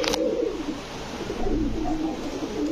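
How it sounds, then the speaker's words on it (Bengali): An old-breed, feather-footed Bagha pigeon, a female at a pigeon sale, coos in low, throaty, wavering calls that repeat closely, heard near and clear with no talking. "পুরান জাতের বাঘা কবুতর"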